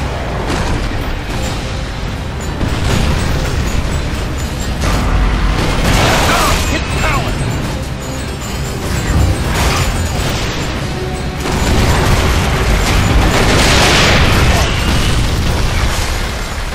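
Tank cannon blasts pound a barricade in Gears of War 2, with loud booms and bursts layered over rumbling machinery throughout. Players talk over the noise.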